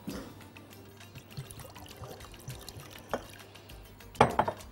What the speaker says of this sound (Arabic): هحط فيها بقى زيت الزيتون مع عصير الليمون